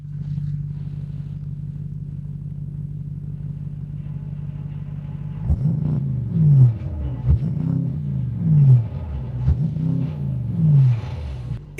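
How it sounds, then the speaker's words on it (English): Mercedes-Maybach SL 680 Monogram Series roadster engine, heard from inside the car: a steady low idle hum, then a run of rising and falling revs in repeated pulls as it accelerates, loud and close, with no talking. "Do you want to listen to the engine's sound or not?"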